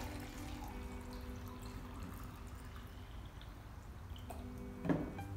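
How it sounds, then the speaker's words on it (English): Water pours from a one-quart container into pint containers for a first-grade measuring lesson, a steady faint trickle running throughout with a brief louder splash near the end. "I'm gonna pour my 1 quart."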